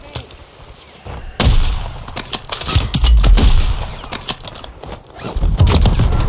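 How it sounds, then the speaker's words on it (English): Sniper rifle fire in Call of Duty Warzone on Urzikstan: loud, sharp gunshot cracks burst in repeatedly over several seconds, mixed with other clattering game action and mechanical noises. "Yep, I got sniped as well"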